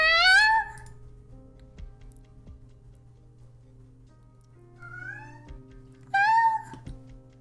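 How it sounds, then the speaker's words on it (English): Cats meow in bursts, one loud near call at the start and end, softer meows between, over a quiet ticking and hum. "Can you hear them? In the background? Meowing?"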